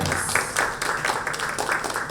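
An audience claps in a brief burst of applause, steady and moderately loud for about two seconds, with no one speaking over it.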